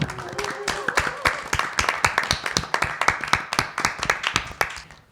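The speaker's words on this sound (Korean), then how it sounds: "열연해 주신 모든 분들에게 박수를." Small audience clapping after a staged reading of Chekhov's play The Seagull, distinct individual claps in a brisk rhythm from a modest group, fairly close and fading out at the end.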